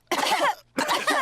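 Two bursts of harsh, raspy coughing from a cartoon character in a Peppa Pig animated episode, close and fairly loud with a short pause between them.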